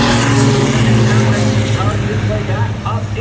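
Race cars in a Six Shooter feature at Lee USA Speedway, engines droning loud and steady, fading slightly.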